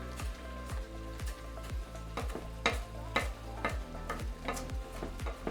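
Chopped basil being stirred into a sizzling prawn pasta sauce in a pan, with steady frying hiss and repeated scraping stir strokes in an even rhythm, close and moderately loud with no talking.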